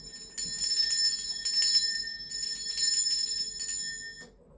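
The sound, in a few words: bell being rung to cleanse the space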